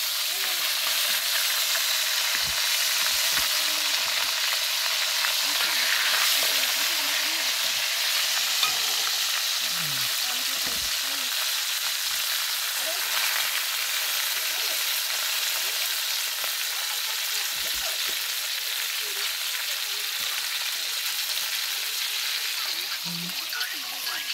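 Petai frying in a pan for sambal, a steady broadband sizzle running throughout with occasional stirring scrapes and clinks, close and fairly loud, with no talk over it.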